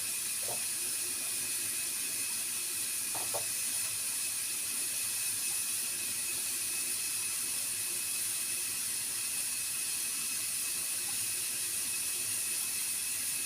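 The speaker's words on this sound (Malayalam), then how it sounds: "വെള്ളം തിളച്ച് വന്നിട്ടുണ്ട്." Water boiling in a cooking pot gives off a steady, even hiss with a couple of faint clicks near the start, continuous and moderately distant throughout.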